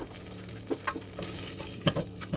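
Coriander seeds and roasted chana dal are sauteed in a pan over a low flame, giving a quiet, steady sizzle broken by several soft scrapes and taps of a stirring spoon.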